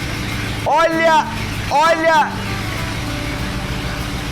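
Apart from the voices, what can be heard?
1922 flathead engine running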